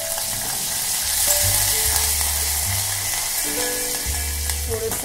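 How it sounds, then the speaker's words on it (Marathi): Curry leaves sizzle and crackle in hot oil with asafoetida and garlic during a tempering for Maharashtrian phodniche varan, a steady loud frying hiss throughout with low stirring rumbles and no talk. "कढीपत्ता घालू,"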